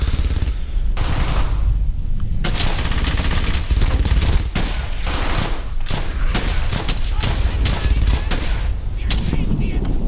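Dense, loud gunfire from the video game Brothers in Arms: Hell's Highway, rapid bursts and volleys cracking almost continuously, with heavy booms underneath and no clear talk.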